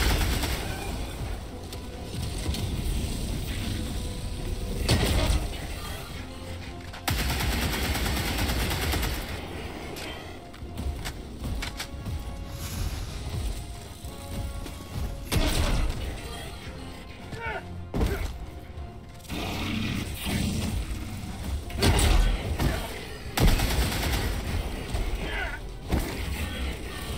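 Helldivers 2 gunfire from a support weapon, bursts of shots and mechanical clatter running through the whole stretch amid game explosions and thuds, loud and busy, with a voice talking at times over the action.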